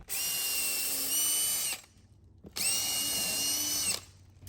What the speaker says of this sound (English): You've always got to have power tools. Makes this work a lot easier.